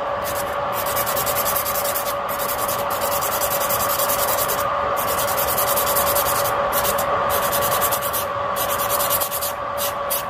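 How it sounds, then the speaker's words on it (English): Hand filing of a fingernail with a nail file, a steady close rasping scrape repeated in quick continuous strokes, with a few brief gaps between passes. "I'm just going to finish it up with some hand filing"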